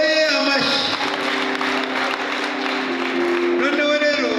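Wedding guests applaud in a church ceremony led by a pastor; a broad patter of clapping rises and fades beneath sustained music and voices.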